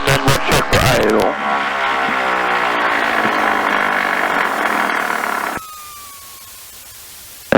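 Twin piston engines of a Piper Aztec idle steadily inside the cockpit, a loud, even drone with harmonic hum holding for several seconds before one engine sound drops away, leaving a quieter tone and a brief click at the end.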